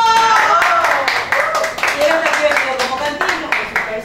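A small group claps during a Spanish-language theater day variety program, uneven and fairly close, with people talking and calling out over the clapping.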